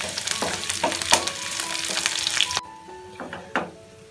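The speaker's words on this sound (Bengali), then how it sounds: "পেঁয়াজ রসুনটা ভাজা হয়ে গেছে," Chopped onion, garlic and about three dried chillies sizzle in hot oil for beef kala bhuna, a bright crackling fry with stirring that drops abruptly to a quieter sizzle partway through.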